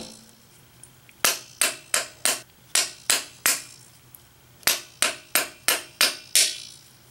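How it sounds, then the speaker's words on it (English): A hammer gently taps the steel hoop of a Japanese chisel, making crisp metallic knocks. There are two evenly paced runs of about six taps each, close and clear, with a short pause between them and no talk. "take some gentle taps. Be very careful not to hit your hand and work around the edge of the chisel like so"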